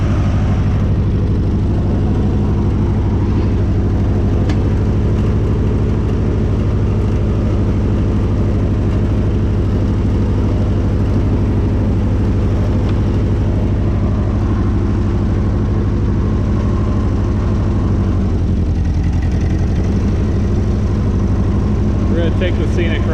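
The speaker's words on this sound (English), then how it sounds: "Tractor fired right up, even though it was a kind of a cooler night" A tractor engine drones low and steady at close range throughout a ride on a cool night, with no clear change in pace.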